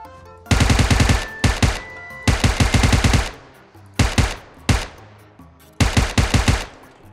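A UMP submachine gun fires in PUBG Mobile, several loud, rapid automatic bursts separated by short pauses, with single shots in between and fading echo tails after each burst.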